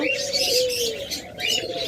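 Caged budgerigars and other pet birds offered for sale, some pairs with eggs and chicks, chirp and tweet continuously at close range, with a soft cooing underneath.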